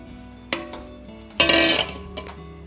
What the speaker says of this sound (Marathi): तर त्याच्यात आता कूट घालूया.